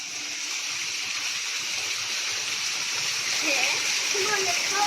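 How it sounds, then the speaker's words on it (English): Continuous rushing hiss of a waterfall heard from behind the falling water, steady and enveloping, with a voice speaking softly near the end. "Now we are behind the waterfall."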